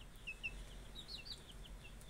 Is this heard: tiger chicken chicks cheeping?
yes